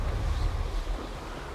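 A waterfall's rushing water in the Hogwarts Legacy video game, a steady, loud, broadband roar that continues without a break, with no speech.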